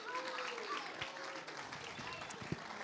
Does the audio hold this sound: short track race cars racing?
no